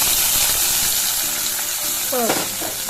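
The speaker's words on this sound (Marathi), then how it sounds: "तेल चांगलं गरम झालेलं आहे आता आपण लगेच टाकूया टमाटर" Chopped tomatoes hit hot oil in a pan for Maharashtrian-style Maggi, a close, steady sizzle and fry with stirring, and a brief tonal clink near the end.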